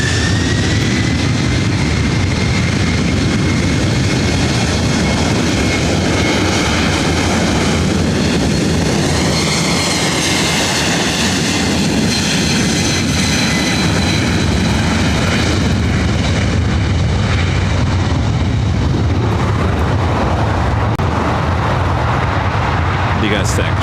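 A Delta heavy jet taking off from runway 24 right at LAX, a loud, sustained engine roar with whining tones that rise and shift midway, while a voice talks over it.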